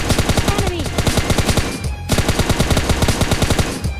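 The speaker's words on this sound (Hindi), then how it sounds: "तब तक हमें आवाज आती है गोलियों की, एकदम तड़तड़ाहट रहती है।" Rapid bursts of automatic gunfire in PUBG Lite crackle continuously, with a short pause in the middle before the firing resumes at full intensity.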